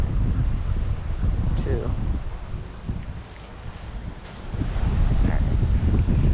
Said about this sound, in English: With the wind blowing my line